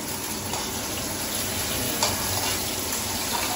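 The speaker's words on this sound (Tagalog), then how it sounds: "Yan guys, nilutuan niya kami ng tinola." Tinola cooks in a pan with a steady, dense sizzle and bubbling that holds at an even loudness throughout, with no talk over it.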